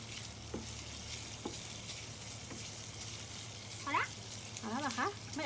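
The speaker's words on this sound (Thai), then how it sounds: "ถ้าชอบกรอบเราก็เจียวให้เขากรอบเลย น้ำมันเขาก็จะออกมาเรื่อยๆนะคะ" Bacon frying crisp in its own rendered oil, a low, steady sizzle heard fairly quietly under a woman's speech.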